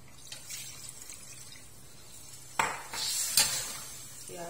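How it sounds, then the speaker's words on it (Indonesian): Water from a glass splashing into a pot of simmering pork stew with soy sauce and spices, a short gush around the middle followed by a second pour and settling bubbling, fairly close and moderately loud. "Masukkan segelas air."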